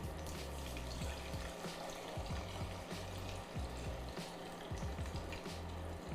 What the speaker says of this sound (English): I'm gonna very carefully, super carefully, take my hot oil, pour it into my prepared bowl.